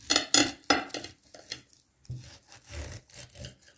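A knife cuts through crisp pastry baked in a pot, producing several sharp crunching and scraping strokes in irregular bursts separated by short pauses, close and fairly quiet with no talk.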